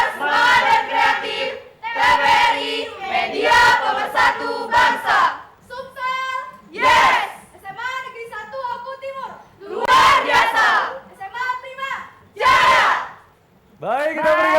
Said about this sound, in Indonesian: Semangat banget yel-yelnya ya Vio ya.